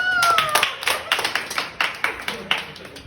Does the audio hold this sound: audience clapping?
yes